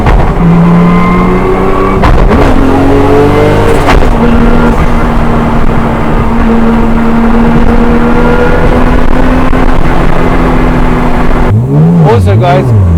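A Nissan Skyline R34 GT-R engine drones loudly from inside the cabin while driving, its pitch rising and falling through the gears, then revs sharply in quick bursts near the end.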